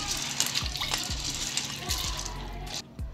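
Water sloshing and pouring as maize is washed in a vessel, steady splashing and gushing close by that drops off sharply near the end, with a few faint knocks.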